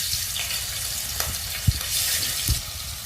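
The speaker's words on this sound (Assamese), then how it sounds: "আগতে আমি অকমান পনীৰখিনি ভাজি লম" Paneer pieces coated with salt and turmeric sizzle in a pan for kadai paneer, a close, steady frying crackle with a few sharper pops and stirring knocks.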